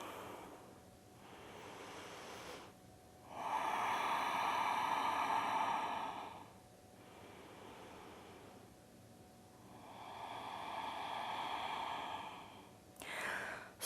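Slow, deep breaths during a seated yoga rest, sitting back on the heels: two long, soft airy exhales swell and fade several seconds apart, close and quiet, with hushed breathing between and no talk.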